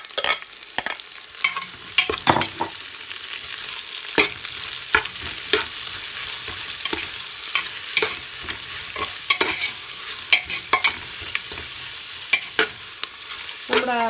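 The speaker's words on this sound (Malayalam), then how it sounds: "ഇനി നമുക്ക് നമ്മുടെ സ്ലൈസ് ചെയ്ത് വെച്ചിരിക്കുന്നു ഉള്ളി ഇട്ട് കൊടുക്കാം." Sliced onions fry in oil for a Kerala-style mutton curry, with a continuous loud sizzle broken by frequent spatula scrapes and knocks against the pan.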